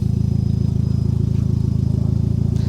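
A Mitsubishi Lancer Evo X engine idles steadily through a new custom exhaust, a low, even pulsing rumble that stays constant and moderately loud for the whole stretch, with no voices.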